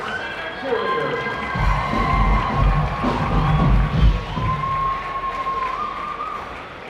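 A high school basketball crowd in a gym cheers for the Tigers cheerleaders, loud sustained shouting and whooping with heavy rumbling stomping or drumming underneath and a few high whistles over the roar.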